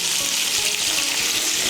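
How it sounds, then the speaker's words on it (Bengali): Pointed gourd pieces frying in hot oil with salt and turmeric, a steady dense sizzle that holds loud and even throughout, with no talking. "নুন আর হলুদের গুঁড়োটাকে মিশিয়ে নিয়ে পটলগুলোকেও লাল করে ভেজে নেব।"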